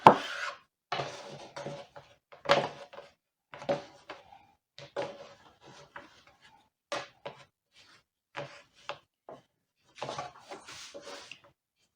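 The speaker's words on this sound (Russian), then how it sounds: "Теперь режу на полоски." A knife cuts soft rolled dough into noodle-like strips for chak-chak on a board, giving a series of short separate taps and thuds with quiet pauses between them and no talking.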